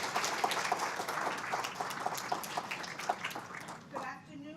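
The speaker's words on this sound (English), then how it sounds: "I know we can't shake hands, but we can clap" An audience at the President's Awards 2020 ceremony claps: a sustained wash of many hands with distinct individual claps, fading out as a voice begins at the end.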